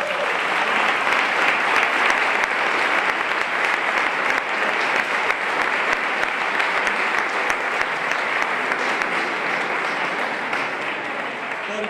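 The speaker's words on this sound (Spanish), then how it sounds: "un aplauso pues al promotor de este concierto" Sustained applause from a concert audience at a 25th-anniversary spring concert, honouring the promoter; dense, steady clapping fills all twelve seconds at an even, loud level without letting up.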